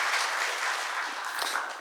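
Audience applause at a healthcare industry labor-management meeting, a steady even patter of many hands clapping at moderate distance, filling the whole short stretch without voices.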